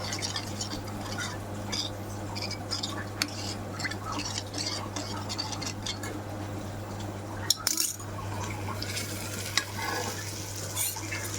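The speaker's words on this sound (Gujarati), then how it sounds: "પાણી સાથે સરસ મિક્સ કરી દઈશું." A spoon steadily stirs a spice mix with water in a metal pan, with continuous scraping and light clinks over a low steady hum.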